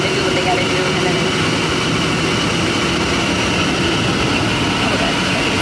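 Airplane jet engines roaring steadily during takeoff, a loud, dense, unbroken wash of engine noise heard from inside the cabin, with voices faintly buried beneath.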